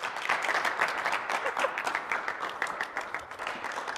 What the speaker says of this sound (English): A round of applause for our next speaker, Diego Fischetti from Italy.